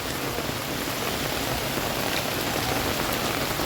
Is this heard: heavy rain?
yes